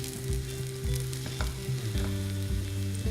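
Vegan cauliflower, leek and kale fritters sizzling in a pan, a steady close crackle and hiss of frying with a low electrical hum beneath and occasional small bumps as they are pressed flat.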